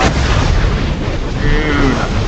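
Gunfire in the video game Fortnite crackles as a dense, loud burst of shots and booms filling the moment, with continuous rumbling noise and no clear separate shots.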